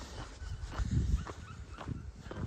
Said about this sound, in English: barking at the deer